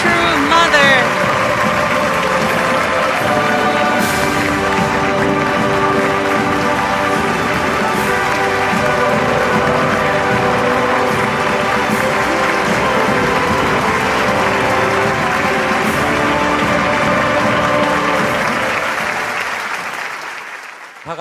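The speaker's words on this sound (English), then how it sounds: "please send loud cheers and a huge round of applause to true mother" Loud, sustained applause and cheering from a large crowd at a youth blessing festival, a dense steady roar with musical tones underneath, holding for about twenty seconds before trailing off at the end.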